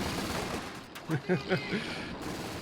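Vickers machine gun on a Universal Carrier fires in Company of Heroes 2, a short rattling burst of several rapid shots heard behind noisy game sound.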